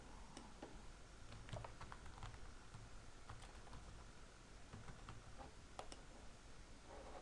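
Typing on a computer keyboard while building a PowerPoint quiz slide: faint, irregular clicking keystrokes in short bursts over a quiet room hum.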